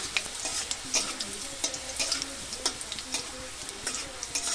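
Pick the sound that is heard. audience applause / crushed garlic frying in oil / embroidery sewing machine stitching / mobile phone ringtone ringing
crushed garlic frying in oil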